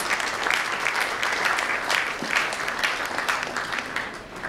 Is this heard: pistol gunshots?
no